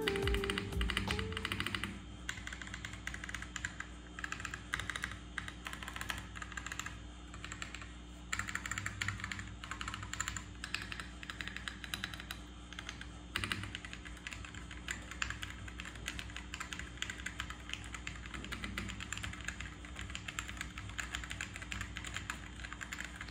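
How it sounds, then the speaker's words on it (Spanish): Soft, steady typing on a keyboard, a quick run of muted key taps continuing for a long stretch with no voices. "vamos a hacer una prueba de sonido para que tengan una idea de cómo se escucha este teclado."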